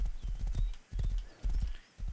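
Horse hooves clip-clop at a steady walking rhythm in the survival video game Rust, fairly quiet, in a few even bursts separated by brief pauses.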